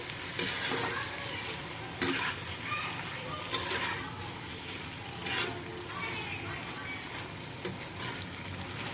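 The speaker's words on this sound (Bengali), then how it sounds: "সব কিছু একবার নেড়ে নেব।" Shrimp and spring onion curry stirred in a pan, a steady frying sizzle broken by periodic louder scrapes of the spoon, with faint background voices.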